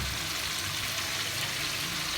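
A pan of chickpea curry with chicken sizzles after a few spoonfuls of yogurt go in, giving a dense, even hiss of frying that stays steady and close for the whole moment, with no talking.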